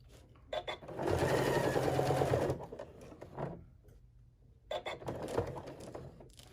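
A sewing machine stitches the strap of a padded iPad case, running in two loud mechanical bursts with a quieter pause between them, heard close up with no speech.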